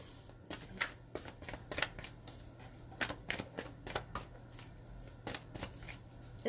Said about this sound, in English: I'm going to pull a couple of cards.